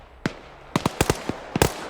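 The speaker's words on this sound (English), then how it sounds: "Start gunfire, yep." Several sharp gunshot cracks in the video game Arma 3, one isolated shot followed by a quick irregular burst of five or six, then two more close together.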